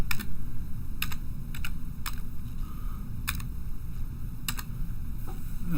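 Computer keyboard typing a file name, a series of sharp close clicks in short irregular bursts over a steady low background hum, with no talking.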